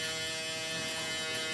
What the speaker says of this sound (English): now take the shaver and you go just below that line